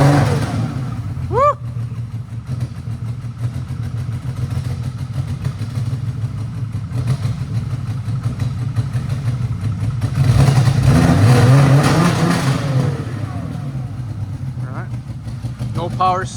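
A VR6 engine in a six-speed car runs rough with a bad exhaust leak, a loud, ragged, chuffing idle that swells briefly as it revs, with people talking over it.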